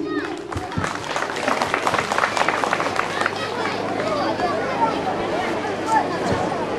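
An audience at a youth general assembly breaks into dense, continuous clapping that stays steady throughout, mixed with crowd chatter and voices talking.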